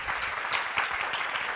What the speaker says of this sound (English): So much clapping, I love it.